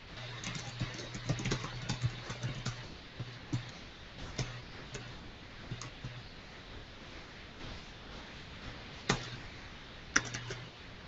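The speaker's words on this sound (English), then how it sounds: "I'm just typing an email real quick to get one more person on here." Quick typing of an email on a computer keyboard, faint close-up key clicks in irregular bursts with occasional sharper taps, running alone for about eleven seconds.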